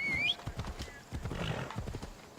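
Horse in the video game Assassin's Creed Odyssey, hooves clip-clopping in a steady rhythm after a short whinny at the start, moderately loud and close, with no speech over it.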